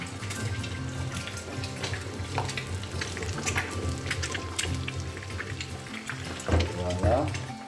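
Red mullet (rock mullet) frying in a pan, a steady crackling sizzle with scattered pops and spatters, close up, a brief clatter and bubbling swell near the end.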